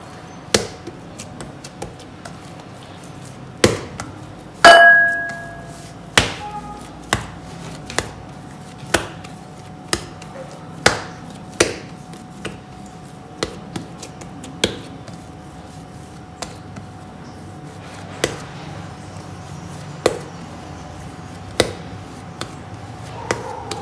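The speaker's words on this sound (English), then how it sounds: "We'll apply a little bit of oil over it and knead it for 1 more minute." Oiled dough for garlic bread sticks is kneaded on a counter. Steady, fairly close thumps and slaps repeat roughly every second for about twenty seconds, with no talking.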